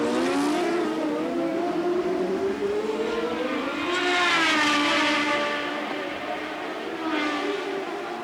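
IndyCar race cars at the 1990 Marlboro Grand Prix scream down a straightaway, engines whining and rising in pitch as they pass, a continuous loud roar with overlapping cars and no talk.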